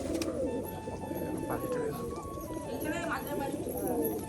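Pigeons in a loft, Rajshahi breed among them, cooing and chattering over a busy background, while someone talks throughout.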